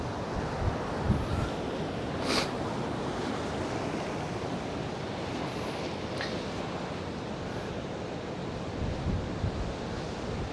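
Ocean waves surging onto a beach at high tide, a continuous broad wash of surf with occasional brighter splashes and wind buffeting, no voices.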